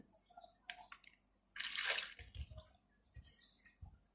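Water sloshes and splashes as it is scooped from a clean betta fish tank, with a brief gush followed by soft drips and gurgles, close and quiet.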